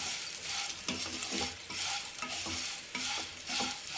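Raw plantain pieces frying in a non-stick pan sizzle continuously while a spatula stirs and scrapes them in a repeated rhythm, close and fairly loud.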